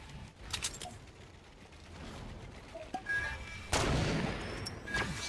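Gunfire in a video game: scattered sharp shots and a heavier blast amid mechanical clatter, fairly quiet and distant-sounding, irregular in rhythm.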